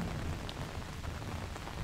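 Steady rain falls amid drifting mist around a windmill, a dense, even hiss of drops on surfaces that holds at a constant level throughout with no voices.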